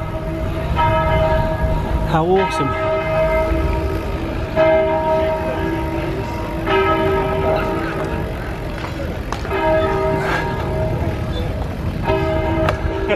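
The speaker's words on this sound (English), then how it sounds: "The bells are ringing at Windsor Castle." Church bells peal at Windsor Castle in a steady repeating round, loud and continuous over outdoor background noise, while a voice briefly speaks over them.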